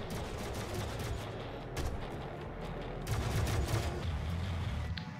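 Gunfire in the classic Doom game, rapid volleys of shots crackling at moderate distance in bursts, swelling louder toward the end with a final sharp report.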